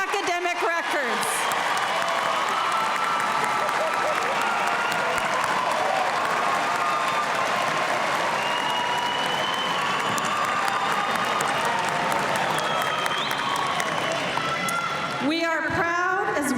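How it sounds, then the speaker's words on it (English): A large audience at a university commencement ceremony applauds graduates in a steady, dense roar of clapping that lasts over fifteen seconds, with faint cheers, before cutting off into a brief pause. "Please join me in applauding all of these graduates for their outstanding academic records."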